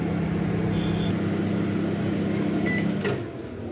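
An oven preheating for baking bati, the round wheat dough balls set on a wire rack, gives a steady low electric hum throughout, with a brief click and faint clatter near the end as the hum fades.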